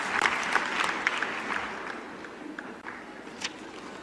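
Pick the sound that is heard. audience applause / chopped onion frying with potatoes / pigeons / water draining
audience applause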